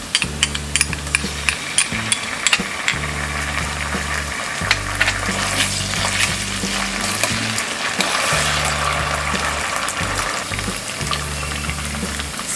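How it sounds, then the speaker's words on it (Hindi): Ginger garlic paste frying with softened onions in a pan gives a steady crackling sizzle with occasional stirring scrapes, loud and continuous with no talk. "अब हम इसमें डालेंगे ये जिंजर गार्लिक पेस्ट"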